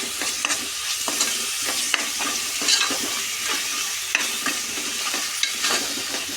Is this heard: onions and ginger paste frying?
yes